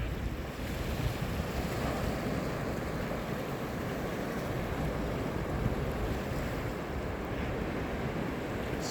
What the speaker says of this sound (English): Some waves here.